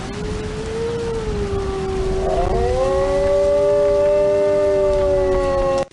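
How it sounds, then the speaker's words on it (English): Two wolves howl together in the Pacific Northwest, long sliding wails that overlap and rise into layered harmonies, sustained and fairly loud against a faint background hiss. "Now that for a fact is what two wolves howling sounds like."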